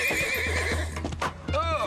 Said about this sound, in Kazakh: Жылқы қашып барады!